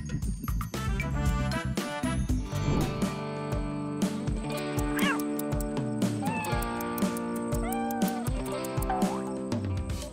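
A cat meows repeatedly, with rising and falling calls over a continuous tonal background, close and clear.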